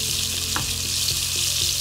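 Steady loud sizzling of nasi goreng frying in a hot pan, with occasional soft scraping as it's stirred, no voices.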